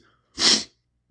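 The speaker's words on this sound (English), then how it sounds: "Man, I feel like I'm gonna sneeze." A man sneezes once during a podcast recording: a single loud, close, explosive burst lasting about a third of a second, then quiet with a faint sniff or breath at the end. No talking.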